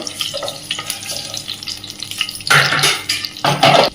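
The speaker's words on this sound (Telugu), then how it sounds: "కొంచెం జీలకర్ర అండి ఫ్రై అవ్వాలి" Cloves, cinnamon and cumin fry in hot oil in a pan for a mushroom curry, giving a steady hissing sizzle with stirring scrapes that swells into louder bursts toward the end.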